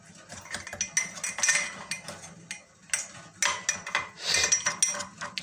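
Metal spoon handled in a kitchen, clinking and tapping against other metal in a string of irregular close light clinks with brief pauses.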